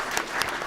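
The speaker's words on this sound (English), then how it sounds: "let's give another round of applause for those" Audience applause at a space policy panel on returning to the Moon, a brief steady patter of many hands clapping at moderate level.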